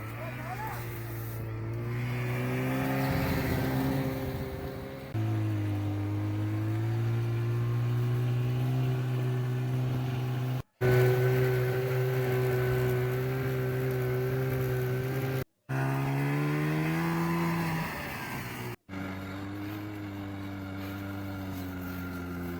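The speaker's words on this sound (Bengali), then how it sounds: "স্নো বাইকটা সত্যি খুব ভালো" A snow bike engine drones loudly and steadily on the snow at Gulmarg, its pitch stepping up and down as it revs, with brief cut-outs, while voices talk over the riding.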